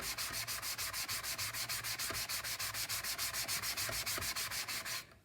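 A foam sanding block rubs back and forth over a wooden Weber work table being refinished, a rapid, even rasping stroke rhythm of about seven strokes per second, close and steady, stopping at the end.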